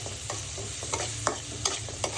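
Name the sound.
frying small shrimp with vegetable spices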